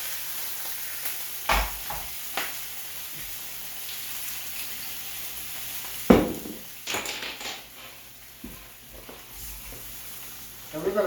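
White wine bubbles and sizzles in a hot pan with snails, a steady close frying hiss broken by occasional sharp clinks and scraping stirs.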